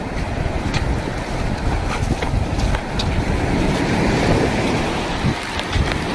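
Sea waves wash onto the Konkan shore at Tavsal at low tide as a strong wind buffets the microphone. The roar of surf is loud and continuous, with no talk.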